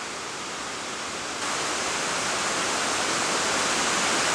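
A waterfall in a Cleveland city park pours in a steady, dense rush of falling water that grows a notch louder partway through and then holds constant.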